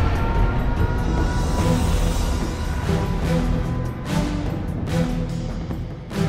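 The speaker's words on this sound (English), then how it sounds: "Nuclear missile launched." In the strategy game Generals Zero Hour, a nuclear missile launch gives a sustained, heavy rumbling roar with rushing hiss that swells in places and eases slightly near the end.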